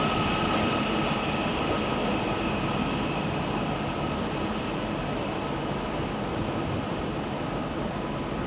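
A train rumbles steadily at Liverpool Lime Street station on the West Coast Main Line, a loud, unbroken roar of wheels and engine with a faint high whine running through it.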